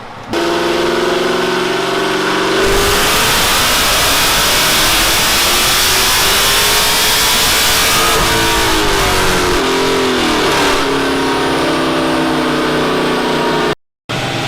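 A Dodge Redeye Hellcat engine roars loudly on a dyno, climbing through a sustained high-rpm pull with whining harmonics, then easing off before cutting out abruptly near the end.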